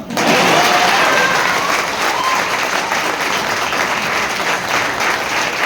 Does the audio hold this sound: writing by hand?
no